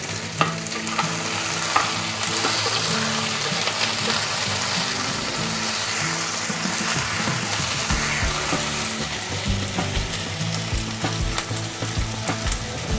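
Sliced tomatoes hit a hot pan of frying vegetables with capsicum and carrot, setting off a steady, close sizzle under occasional stirring scrapes, loud and continuous throughout with no voices.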